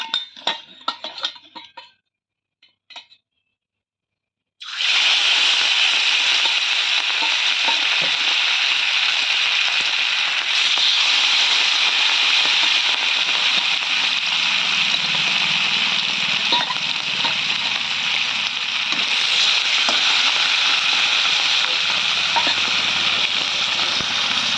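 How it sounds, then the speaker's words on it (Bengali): Pieces of large katla fish dropped into hot oil hiss into a loud, steady sizzle after a few seconds of quiet clatter, the frying continuing strongly without a break. "দেখো তেল কিন্তু গরম হয়ে গেছে, এবার কিন্তু দিয়ে দেবো মাছ।"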